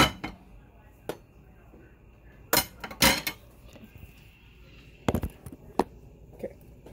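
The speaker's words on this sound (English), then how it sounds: "move some of these dishes out of the way" Dishes and cutlery are moved aside in a kitchen, producing several sharp clattering clinks in short bursts separated by quiet pauses, with no talking.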